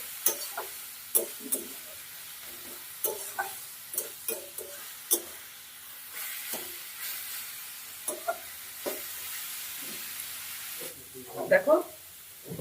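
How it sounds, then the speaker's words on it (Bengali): Vegetables fry slowly in a pan for an old-style Bengali dish, a faint continuous sizzle under intermittent clinks and scrapes of a spatula stirring, with a louder clatter near the end. "যত সুন্দর করে ওগুলো সবজিটা ভাজা ভাজা করে নেওয়া হবে তত খেতে ভালো লাগবে"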